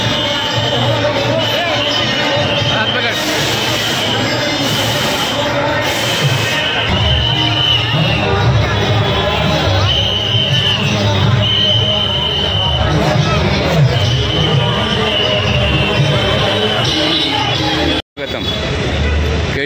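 A dense crowd of devotees gathers on a main road for the Sai Sevak palkhi procession, a steady loud babble of many voices with occasional raised calls and traffic rumble, while someone talks over it.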